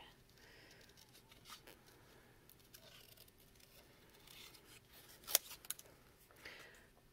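Scissors snip through paper while cutting out a small skirt piece for a paper-piecing craft, quiet close crisp cuts repeating irregularly with a few sharper snips near the end.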